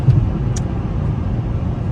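Cabin of a 2006 Dodge Stratus SXT with 73,000 miles cruising on a freeway at about 74 mph: a quiet, steady low road and engine hum, with a brief faint squeak near the start.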